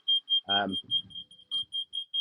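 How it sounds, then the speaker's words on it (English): A high electronic safety beep from an electric glass sunroof on a Jeanneau NC33 boat repeats steadily at a quick, even pace, with a short burst of speech and some rustling partway through. "It does have an annoying beep, but it is there for safety"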